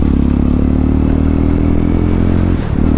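A Jawa 350 motorcycle engine runs loud and close, a steady throbbing idle with a deep pulsing rhythm and a brief dip near the end, with no voices over it.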